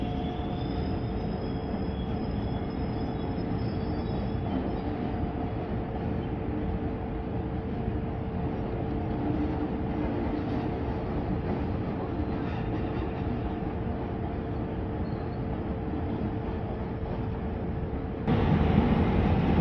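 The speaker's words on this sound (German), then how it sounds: "Der Zug nach Köln-Nippes hat Ausfahrt." A train departs Düsseldorf Hauptbahnhof towards Köln-Nippes with a continuous rolling rumble of wheels on track and a faint high squeal. It holds steady at moderate volume and grows louder near the end.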